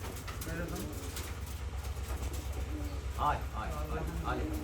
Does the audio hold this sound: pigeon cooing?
yes